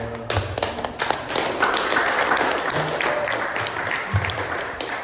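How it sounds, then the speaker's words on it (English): A small audience breaks into applause at the close of a talk, scattered hand claps building into a steady patter at moderate distance, with a few voices and thumps underneath. "Round of applause"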